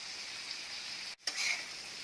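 Chopped tomatoes sizzle and fry steadily in a hot pan on medium flame for street-style tawa pulao, with a brief stir or pause midway and no talking.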